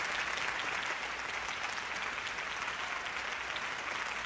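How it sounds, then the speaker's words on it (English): A concert hall audience at Clues Memorial Hall applauds a pianist, giving dense, sustained, even applause from many hands with no pauses. "the audience warmly applauding"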